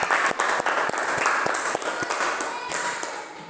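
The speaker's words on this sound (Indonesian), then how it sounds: "tepuk tangan." An audience in a social studies lesson on Indonesia's natural resources claps, with a series of sharp, evenly spaced hand claps ringing out one after another over a steady background.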